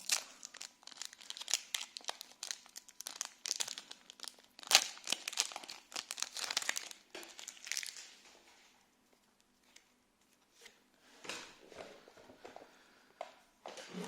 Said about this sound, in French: Ça ne s'arrête jamais d'ouvrir des boosters.